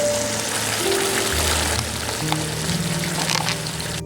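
A small batch of food fries in a pan with a dense, continuous sizzling hiss. The sizzle stays loud and steady throughout, with low humming tones running underneath.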